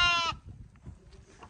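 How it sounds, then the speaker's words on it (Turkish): A short, wavering bleat of a black lamb in a village opens the clip, then fades into faint outdoor background noise. "Şurada çok tatlı bak kara bir kuzu var"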